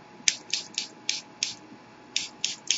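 Eight quick hisses from a spray bottle mist a small pile of Perfect Pearls shimmer powder on a craft table, short close bursts in an uneven rhythm with no talking.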